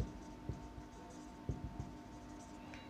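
Marker or chalk writing on a board during a physics lesson on dimensions, with faint scratchy strokes and a few soft taps over a quiet room hum.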